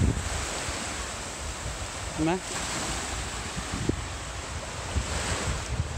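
Sea waves wash onto a Thai beach with a steady surf hiss and gusty wind across the microphone, while a voice speaks briefly in the middle.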